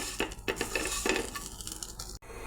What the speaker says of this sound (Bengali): এবার সেমাইগুলো দিয়ে দেব। সেমাইগুলো একটু ভেজে নেব।